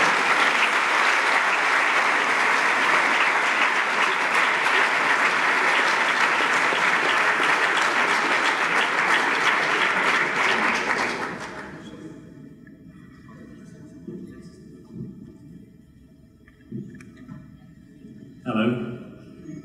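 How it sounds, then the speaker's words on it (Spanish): An audience at a game industry awards gala in Barcelona claps loudly for about eleven seconds, a dense sustained burst that stops abruptly. Quiet room noise and a few scattered sounds follow. "Y para entregarlo, un fuerte aplauso para Joe Robbins y Russ Morris"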